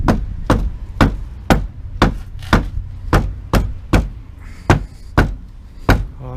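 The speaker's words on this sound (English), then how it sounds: "So when I go ahead with my hammer" A sledgehammer drives a wedge into wood during termite and water rot repair on a workshop structure. Eleven loud, close, evenly spaced heavy thuds land about half a second apart, with no talk between them.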